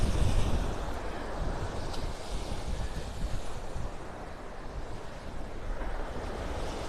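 Ocean surf washes steadily onto a beach in North Naples, Florida, a continuous broad rushing roar with wind buffeting the microphone and no voices.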